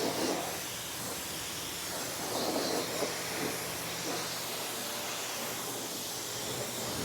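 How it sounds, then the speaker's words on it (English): A water spray hisses steadily while rinsing a car, a broad continuous rush at close range with slight swells as the stream moves across the body panels. "I'm just kind of doing like a quick rinse here."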